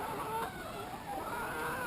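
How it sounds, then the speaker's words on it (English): A flock of chickens clucking and chattering continuously at moderate distance while being fed, a busy, overlapping murmur of calls. "You never realise how many chickens there actually is until they get fed."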